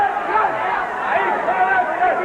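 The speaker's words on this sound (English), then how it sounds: "Oh, it's a lively crowd here." Lively crowd at a boxing bout between Leon Spinks and Carlos De Leon, a continuous murmur of chatter running under a commentator's voice.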